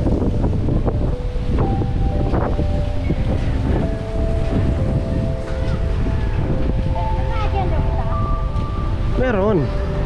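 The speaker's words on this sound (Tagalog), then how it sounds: "Ang lakas pa ng hangin, mga kaibigan." Powerful Typhoon Rolly wind blasts continuously into the microphone with heavy buffeting rumble, while someone speaks intermittently over it amid damaged houses in San Antonio, Tabaco, Albay, Philippines.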